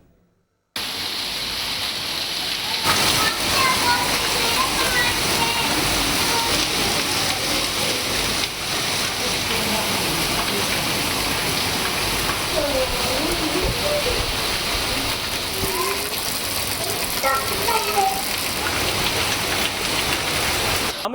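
Rain falls steadily in Madurai, a dense, even hiss of drops on surfaces that holds loud and unbroken after a brief quiet start.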